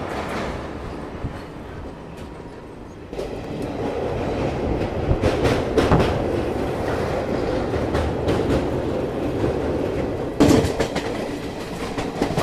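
A Garib Rath Express train running on rails in India, steady rolling rumble with rhythmic clickety-clack of wheels over joints, heard from on board, continuous and loud throughout.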